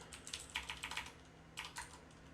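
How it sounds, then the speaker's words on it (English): Keys clatter on a computer keyboard during a live coding session, in irregular bursts of close, quiet clicks with a short pause midway and no talking. "why can't this keyboard type?"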